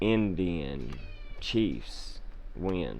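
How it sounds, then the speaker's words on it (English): A pet cat meows loudly and insistently indoors, several drawn-out calls repeating over a few seconds while a person keeps talking. "Sorry about my cat, you guys."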